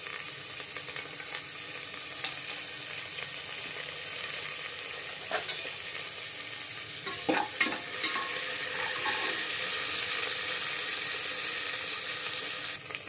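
Mustard seeds, curry leaves and coriander frying in hot oil, a continuous bright sizzle with scattered pops and crackles, growing louder and denser in the second half, with a few stirring knocks and no speech.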